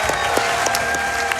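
Crowd applause at a Summer Games Done Quick speedrun marathon after a Titanfall 2 race finish, a dense, steady wash of many hands clapping at close, even loudness throughout.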